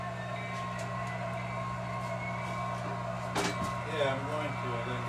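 A small model train hums steadily with a constant electric drone, and a brief voice or squeal rises partway through.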